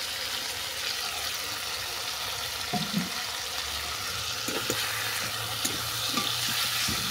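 Grated tomato and torn green chillies are sautéed in oil with salt and turmeric for a taroi fish and turnip curry, producing a steady close sizzle broken by repeated spatula scrapes and taps.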